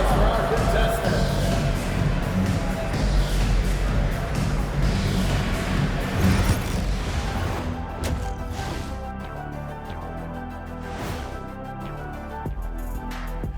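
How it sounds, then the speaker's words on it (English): A crowd applauds in the NBA 2K25 basketball video game during a Toronto Raptors game. A dense wash of clapping fills the first several seconds, then fades as a voice talks over the arena noise. "One more time, a round of applause for our contestants."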